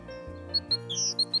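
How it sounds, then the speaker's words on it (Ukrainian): A small winter bird with white cheeks, a black cap, grey legs and a yellow breast sings several short, thin, high chirps in a quick broken series. The calls sound close and clear over a steady low hum. "Чуєте? Хтось співає. Що це за пташка така?"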